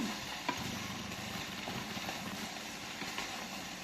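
Eggplant sautéing with onion and garlic in a pan: a steady, faint sizzle with occasional soft stirring scrapes, alone with no talk.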